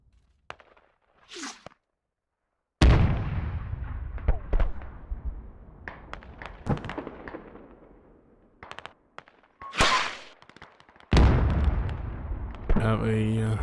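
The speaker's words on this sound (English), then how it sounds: "They're shooting at something else." Gunfire and explosions in the military shooter Squad, with sharp cracks and booming blasts scattered irregularly between quiet gaps, some close and loud, others more distant.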